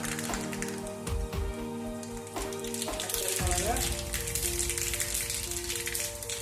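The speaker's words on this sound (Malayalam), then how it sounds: "ഒരു പാത്രം അടുപ്പത്ത് വെച്ച് കടുക് വറക്കാം" Mustard seeds splutter and crackle in hot coconut oil in a pan on the stove, a dense, steady frying crackle that runs throughout with a tonal background underneath.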